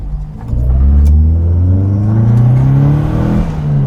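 A 1968 Toyota Corona fitted with extra carburetors pulls out onto a road, its mid-pitched engine revving loudly and climbing steadily in pitch as it accelerates up through the gear.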